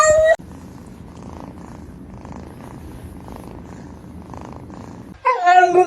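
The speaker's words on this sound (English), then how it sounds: "He's a very loving cat." A male cat purrs up close in a low, steady rumble, framed by short bursts of louder sound at the start and end.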